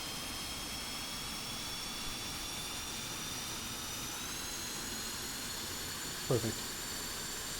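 F-5E Tiger II jet engine spooling up during startup in a DCS World flight simulator, a steady whining hum with rising high tones throughout, and a brief spoken word near the end.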